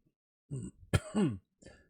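A man clears his throat and gives a short cough, a few rough close-mic bursts spread over two seconds with quiet gaps between them.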